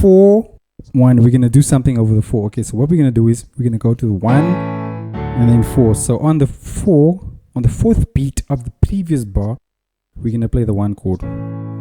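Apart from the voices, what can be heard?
None of the usual background noises is heard.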